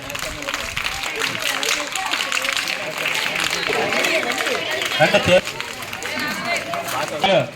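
Children applauding at a school Republic Day celebration, a dense, steady clatter of many hands with crowd chatter and a voice running throughout.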